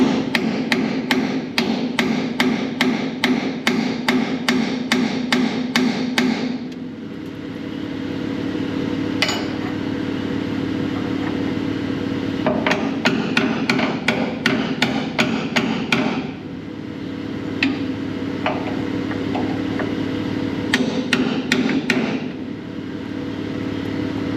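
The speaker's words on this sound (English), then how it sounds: "we just keep trying to drive this chisel up under here to wedge it up" A hammer strikes a chisel over and over in quick, sharp, ringing blows, driving it in to wedge out a corroded part, against a steady engine drone beneath.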